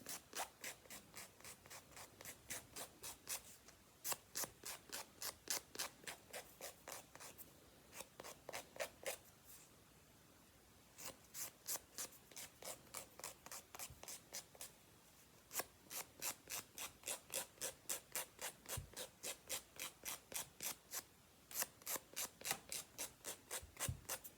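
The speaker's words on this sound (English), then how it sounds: "Let's kind of just touch up the filing a little bit." Press-on nails being filed by hand, a crisp scratchy rasping in quick regular strokes, close and fairly loud, coming in bursts of steady back-and-forth rubbing separated by brief pauses.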